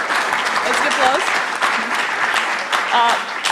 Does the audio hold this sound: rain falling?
no